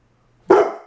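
A single loud, close dog bark, sharp and short with a quick fade, standing alone after near silence.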